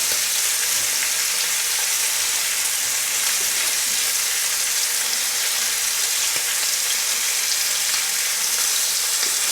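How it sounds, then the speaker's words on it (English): Bacon frying in a pan over medium heat, a dense, loud, unbroken crackling sizzle that holds steady from start to finish with no voices. "if the bacon gets too smoky or too splattery, you can turn the heat down from medium"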